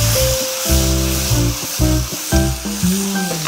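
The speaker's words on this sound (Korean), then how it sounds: "고춧가루를 볶아서 약간 고추기름을 내는 거예요" Chili powder fries in a little oil in a pan, giving a close, steady sizzle and hiss that continues throughout, with some pulsing tonal sounds underneath.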